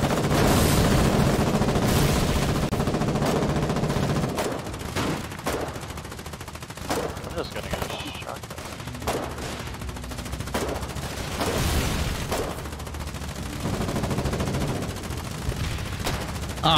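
Submachine gun bursts crack through the trenches of the Foxhole war game, quick rattling volleys mixed with heavier booms and scattered single shots, loud and near for the whole stretch.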